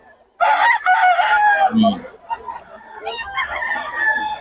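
A two-year-old Pumpkin rooster crows loudly and close by in one long call, followed by softer clucking and farmyard noise.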